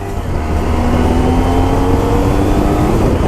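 Yamaha MT-09 motorcycle riding through a city centre, a loud, steady engine drone with a rising tone as it accelerates smoothly, close up and continuous, with wind rush filling the background.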